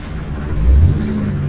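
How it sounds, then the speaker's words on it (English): A heavy truck engine in American Truck Simulator, a set of doubles in Texas, rumbles loud and low and swells briefly midway, with no talking. "Now we're in a different truck today."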